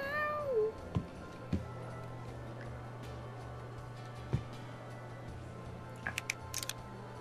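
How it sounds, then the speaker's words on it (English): A cat meow coming from a glass object in Scribblenauts Unlimited, a single short meow near the start followed by faint clicks and taps with no talking. "A piece of glass did actually meow"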